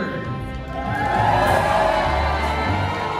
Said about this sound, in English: all you fine folks sitting over here tonight are cheering for the North!